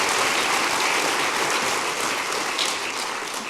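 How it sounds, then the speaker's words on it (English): Steady applause from an audience at a conversation event, a dense wash of clapping with no breaks that eases off slightly near the end. "Give them a round of applause for that."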